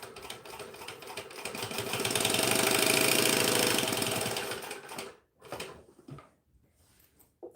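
A sewing machine stitches fabric in one continuous rapid whirring run that swells to full speed, stops, and is followed by a few faint handling clicks.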